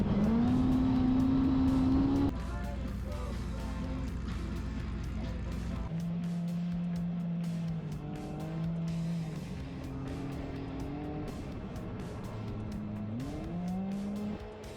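A UTV engine drones and revs as the side-by-side drives fast over rough off-road trail through a dip, loud and close throughout, its pitch rising and falling with throttle and gear changes.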